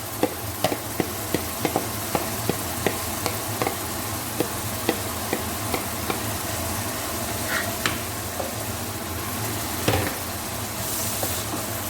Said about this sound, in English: Mix it well, at least for 2 to 3 minutes in a medium flame.